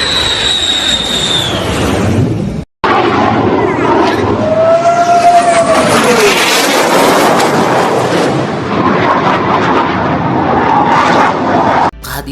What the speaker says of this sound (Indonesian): Chengdu J-20 yang merupakan jet tempur siluman generasi kelima pertama buatan